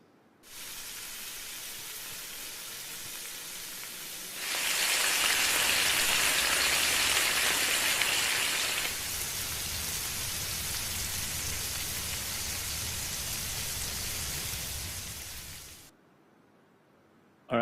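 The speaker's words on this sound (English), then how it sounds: "instead of the sound of rain, I've added the sound of bacon frying" Continuous crackling sizzle of bacon frying, a dense hiss that swells louder in the middle stretch before settling, then cuts off abruptly; used as a Foley stand-in for rain.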